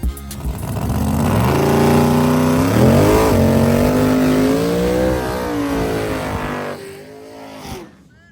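An outlaw small tire drag racing car at Muncie Dragway revs loudly and close, its engine note climbing, dipping and climbing again in a sustained roar before cutting off abruptly.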